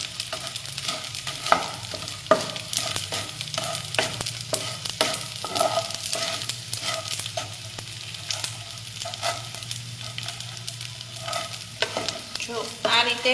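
Edible gum (gundar) fries and puffs up in a hot pan, giving steady close sizzling with frequent crackling pops and stirring scrapes throughout, no voices.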